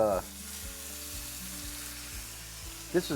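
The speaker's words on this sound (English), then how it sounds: "we're going to heat up our skillet, put a little oil in" Light olive oil sizzles steadily in a hot skillet while food is sautéed for steak Diane, with a brief utensil clatter near the end.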